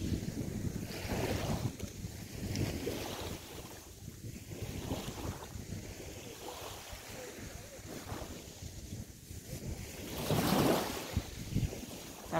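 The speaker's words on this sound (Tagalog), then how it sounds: "Malakas ang hangin kasi may parating na bagyo dito" Strong gusting wind from an approaching typhoon buffets the microphone at Wu Kai Sha Beach, Hong Kong, with surf rumbling underneath and a louder gust near the end.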